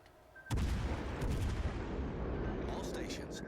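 Naval artillery fire in the video game World of Warships: Legends erupts as a sudden heavy boom followed by a long rumbling roar, with faint additional bangs and a voice speaking near the end.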